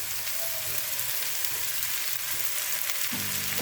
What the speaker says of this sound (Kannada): ನೆಕ್ಸ್ಟ್ ಮಶ್ರೂಮ್ ಹಾಕ್ಕೊಳ್ತಾ ಇದ್ದೀನಿ ನೋಡಿ.